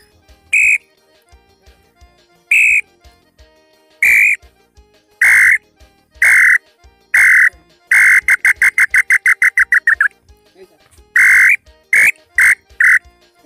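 A handheld bird-call whistle imitating the lambu tinamou, blown in short, loud, piercing single notes, then a rapid trilling run of quick repeated pips, followed by a few more spaced notes, close and alone with no talk.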